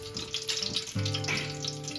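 Cardamom drops into hot oil and ghee for basanti pulao, setting off a close crackling fry that swells partway through the short stretch, with no voices.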